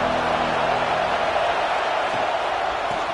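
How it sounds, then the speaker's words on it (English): Football stadium crowd at a UAB versus Penn State game, a steady, loud broadband roar of many voices filling the space without clear peaks or bursts of cheering. "This crowd ready to make its presence known."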